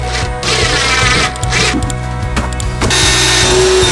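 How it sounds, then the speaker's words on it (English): A power tool cuts in harsh, loud bursts with brief pauses between passes, a steady workshop roar close by. "you can hear the boys cutting in the shed behind me"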